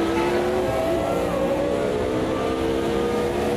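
Race car engines in the Automobilista 2 racing game give a continuous, loud, droning whine with slowly shifting pitch, held at a steady level with no voices.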